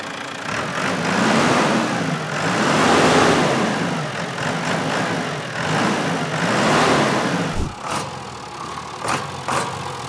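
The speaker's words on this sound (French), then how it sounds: "Ça fait un beau petit bruit de 4 cylindres diesel." A four-cylinder diesel engine powering the hydraulic pumps of a farm machine runs steadily and close by, its rough drone swelling and easing in slow waves before dropping off near the end.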